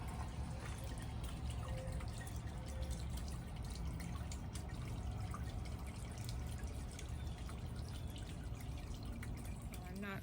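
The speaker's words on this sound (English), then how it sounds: "I'm not sure if you would count this rain chain as a water feature or not" Water trickles and drips down a rain chain in a garden, a faint steady patter with small splashes, heard alone at low level.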